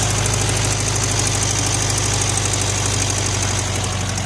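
A 1973 VW Karmann Ghia's engine runs steadily after sitting for 28 years, a loud, close, continuous mechanical drone with a faint knocking rattle throughout and no talking.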